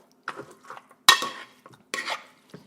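Beef in a bowl is stirred together with sour orange juice marinade, giving a few close, intermittent clinks and wet scrapes separated by short pauses, with no voices.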